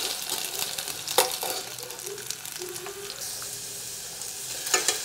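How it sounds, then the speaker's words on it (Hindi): Potatoes fry in hot oil with cumin in a kitchen pan, a steady close sizzle punctuated by a few stirring scrapes and clinks. "दो आलू हम लोग अच्छे से फ्राई कर लेंगे।"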